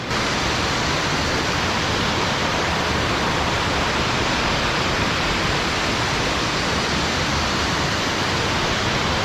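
Ravan waterfall in Sri Lanka roaring steadily, a dense, unbroken rush of falling water heard close up with no voices over it.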